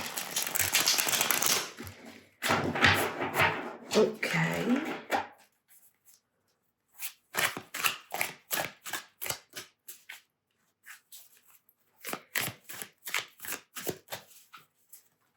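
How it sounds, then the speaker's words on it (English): Tarot cards being shuffled: a long riffling burst, then a pause and two runs of quick rhythmic flicks, close and fairly quiet, with a brief spoken word. "Let's try to shuffle."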